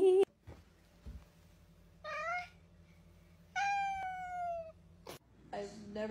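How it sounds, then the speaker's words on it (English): A cat gives several loud, drawn-out meows with a strained, almost rooster-like rise, spaced across a few seconds over a low steady hum and brief knocks. "I've never seen a cat do this before"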